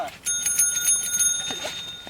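A bicycle bell rings repeatedly in quick, bright metallic trills, close and clear, with faint talk in the background.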